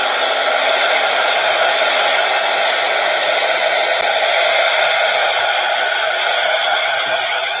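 A hair dryer blows steadily and loudly at close range, drying silver paint on envelopes, a constant whooshing hum that runs unbroken from start to finish with no talking.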